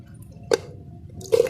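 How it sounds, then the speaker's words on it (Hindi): Soaked apple pieces are lifted out of water and dropped into a cooking pan for homemade apple jam. Two short, wet plops land about a second apart against a quiet background. "एक पैन में हम सेब अपने पानी से निकाल के इसमें डाल देंगे।"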